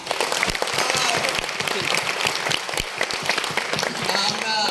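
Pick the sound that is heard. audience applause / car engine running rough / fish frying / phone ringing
audience applause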